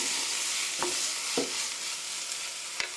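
Tomatoes are stirred gently in a hot pan over a steady, close sizzle, with a few soft spoon scrapes standing out against the frying hiss.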